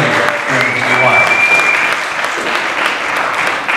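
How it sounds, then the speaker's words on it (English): Loud, dense applause from a crowd fills the whole stretch, with some voices and cheering mixed into the clapping. "I think that deserves a round of applause"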